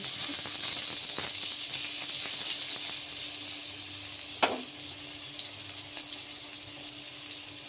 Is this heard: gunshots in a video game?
no